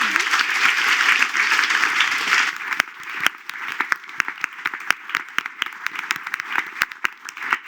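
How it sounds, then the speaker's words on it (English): An audience applauds panel speakers at the close of a discussion on urban adaptation, with steady dense clapping that thins into scattered individual claps and then fades out. "Round of applause for the speakers."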